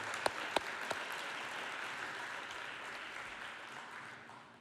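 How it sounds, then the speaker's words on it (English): Attendees at a community development summit applaud a panel of experts, a sustained, even round of clapping with a few sharp, louder claps at the start, gradually easing toward the end. "If you wouldn't mind congratulating them with a round of applause, I would certainly appreciate that"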